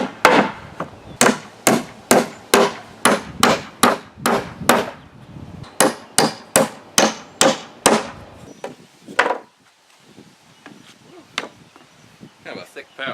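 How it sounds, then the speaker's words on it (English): A hammer drives nails into thick pallet boards for a Halloween scare-zone platform: about twenty sharp, evenly spaced wooden blows close by, a short pause, then more hits. "I'm going to go ahead and start just nailing this together."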